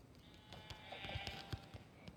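Sheep bleating in the video game Minecraft, several soft overlapping bleats amid faint clicks and scattered game sounds, fairly quiet with no talk over them.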